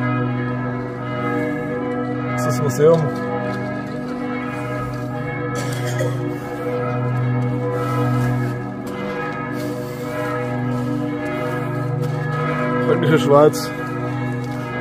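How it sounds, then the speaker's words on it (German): Church bells in Forchheim, Franconian Switzerland, peal continuously with rich, overlapping resonant tones, steady and fairly loud, while someone talks over them. "Und die Kirchenglocken."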